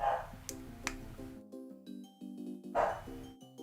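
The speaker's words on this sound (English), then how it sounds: "Who knows what the dogs are barking at?" Dogs bark faintly and far off, two short muffled barks about three seconds apart beneath a steady pattern of stepped tonal sounds.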